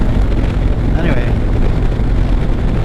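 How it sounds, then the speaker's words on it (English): Strong wind buffeting and rushing over the microphone during a chilly December motorcycle ride on US 60 east in Arizona, a loud continuous roar with a brief swell, a voice faintly underneath. "that was a gust of wind."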